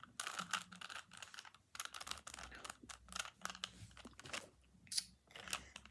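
A Rubik's 3x3 cube is turned by hand in quick bursts of soft plastic clicking and clacking, with short pauses between runs of moves. It is close, quiet and alone.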